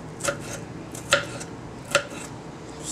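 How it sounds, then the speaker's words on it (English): A knife slices orange and green peppers and red and white onions on a cutting board, three crisp separate cuts spaced evenly and heard close up. "So, I'm going to go ahead and just keep on slicing these."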